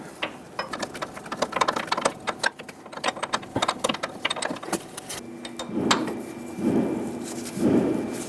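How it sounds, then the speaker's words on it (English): A wrench tightens a steering fitting while a pitman arm is replaced on a 2007-2014 Chevrolet Silverado 2500 HD, giving a close run of sharp metallic clicks and clinks, followed by a few louder droning bursts near the end. "Let's put a wrench on it."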